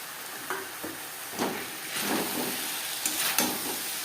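Potatoes and onions frying in a pan with oil for a fish curry, giving a steady sizzle broken by several scraping stirs of a spatula, close and fairly loud with no voices.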